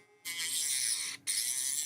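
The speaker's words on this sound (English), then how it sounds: "with a little electric screwdriver and the saw blade." Small electric screwdriver fitted with a saw blade cutting a plastic model kit, giving a high, thin buzzing whine that runs for about a second, stops briefly, then starts again, close up.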